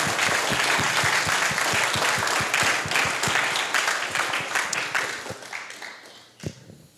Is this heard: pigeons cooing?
no